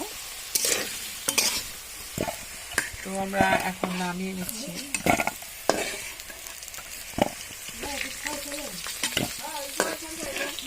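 Whole, round new potatoes sizzle in a pan while being stirred, with repeated scraping clatters over a steady frying hiss and someone speaking briefly over them.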